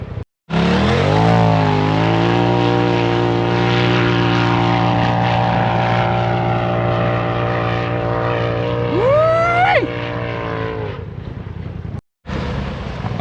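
A Polaris RZR Turbo S UTV on paddle tires climbs a sand dune, its engine roaring loud and steady at high revs for many seconds, pitch rising as it strains, then abruptly cutting off.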